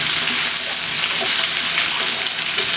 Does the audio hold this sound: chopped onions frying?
yes